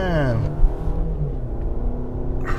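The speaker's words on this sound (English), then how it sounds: "I don't know if you guys can hear my car" A car engine rumbles low and steady while driving through heavy rush-hour traffic. A voice rises over it briefly at the start, then the drone carries on alone.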